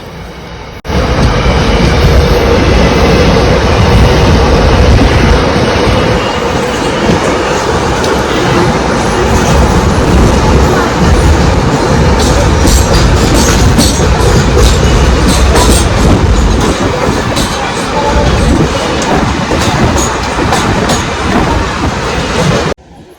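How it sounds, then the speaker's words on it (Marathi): A loud freight train rumbles past close by on the line between Vasai Road and Diva, for a long stretch, with steady wheel noise and rhythmic clattering over the rails. "समोरून एक मालगाडी चालली आहे"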